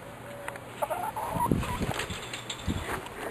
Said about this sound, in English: That's the hen that laid the marble egg.